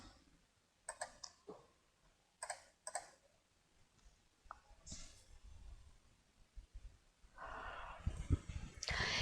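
A computer mouse clicking to save a file, a few sharp close clicks in pairs, followed by a rise of rustling and breathy noise toward the end.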